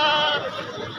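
Goats at a livestock market let out a single loud, wavering bleat close by.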